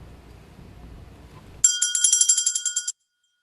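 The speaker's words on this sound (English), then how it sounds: "We'll begin our service this morning with the ringing of the bell" A small hand bell rings out at the start of a Sunday church service, a quick run of bright metallic strokes after near-silence, then stopping abruptly.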